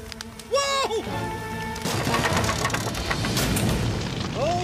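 Cartoon fireworks go off at a fire in a tent, with rising whistles followed by loud booms and crackling bursts layered over a busy animated soundtrack.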